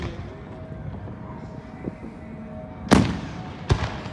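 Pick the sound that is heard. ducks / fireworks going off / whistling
fireworks going off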